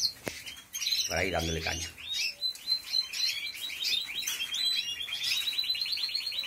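Small birds chirp and tweet steadily around lettuce set out for them, bright repeated calls close by, with someone speaking briefly near the start.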